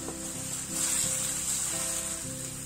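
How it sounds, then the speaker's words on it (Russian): Grated mushroom stems fry in vegetable oil with a steady, close sizzle and crackle that rises briefly in the middle, over faint tonal background music, with no voices. "Натрите их на крупной терке или измельчите ножом и обжарьте на растительном масле."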